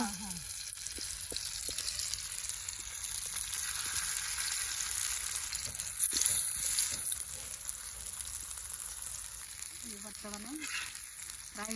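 Food fries in oil in a home village-style kitchen, a steady, soft, continuous sizzle with occasional stirring scrapes and faint background noise.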